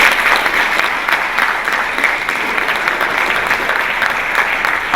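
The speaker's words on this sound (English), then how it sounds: "you've got to give yourself another clap because you were all brilliant" Secondary-school students at a presentation event applaud themselves, a dense, steady crowd applause sustained at a fairly loud level throughout without a break.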